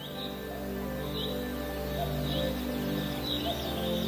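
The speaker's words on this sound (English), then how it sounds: "Birds are calling to each other." Birds call in a forest of pine trees, giving repeated short, bright chirps and cooing notes over a steady, layered ambient bed. The calls come at a moderate distance and form a soft, continuous backdrop.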